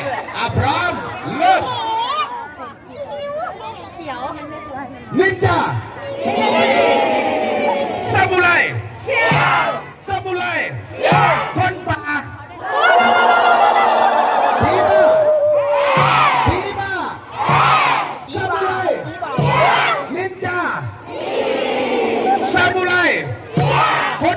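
A large crowd shouts and cheers in rising bursts, loud and lively, with excited voices calling out over the noise.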